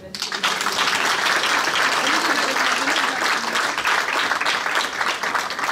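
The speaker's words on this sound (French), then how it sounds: "je vous demande vraiment d'applaudir" A charity gala crowd in Brussels claps loudly and densely for a woman named Mireille Da Silva, the applause close and sustained throughout, with faint voices mixed into it.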